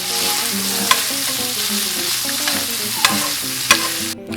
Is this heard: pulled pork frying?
yes